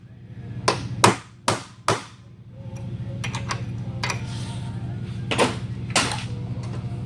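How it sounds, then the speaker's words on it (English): Four sharp, loud hammer strikes on metal ring out in quick succession while riveting ball joints on a 1969 Camaro, followed by a few softer taps and metallic knocks over a low mechanical hum. "Use the hammer the right way."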